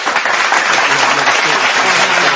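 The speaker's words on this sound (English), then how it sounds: "Can we get an applause for that?" Dense, steady applause from a studio audience during a podcast, loud and continuous throughout with no talk over it.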